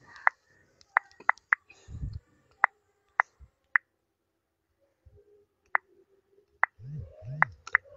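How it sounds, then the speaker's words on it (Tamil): Soft taps on a phone's touchscreen keyboard come one at a time in an uneven rhythm, each a crisp, close, isolated tick, with a few faint low thumps between them. "இப்போ நான் தமிழ் பசங்க வச்சுன்னு டைப் பண்ணுற பாருங்கள்."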